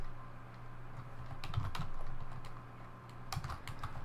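Code being typed on a computer keyboard: a quiet run of irregular key taps over a steady low background hum, with small clusters of faster keystrokes and no talking.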